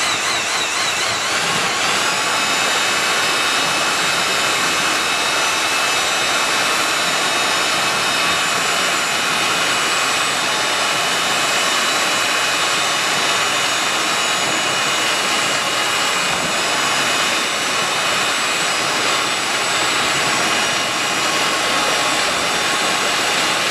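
A power mixer steadily churns dry-mix Veneziano plaster, giving a loud, continuous whirring drone that holds unbroken from start to finish.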